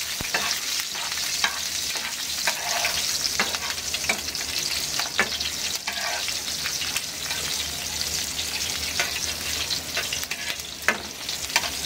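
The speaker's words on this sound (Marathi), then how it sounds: "आता मिरचीचा थोडा कच्चापण जाईपर्यंत 1-2 मिनिटं असं त्याला स्लोवर शिजवून घेऊया।" Slit light green chillies frying slowly in a pan over a low gas flame, a steady close sizzle with scattered crackles and spoon clicks throughout.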